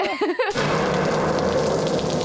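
Steady heavy rain pours down at an evening scene, a dense continuous hiss that takes over after a brief burst of voices at the start and holds loud and even to the end.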